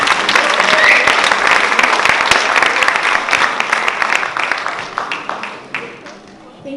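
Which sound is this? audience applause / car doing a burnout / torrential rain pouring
audience applause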